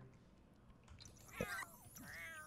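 Cats meow in The Sims 4 Cats & Dogs game audio, with a short call near the middle followed by a longer, rising meow toward the end over quiet game background sound.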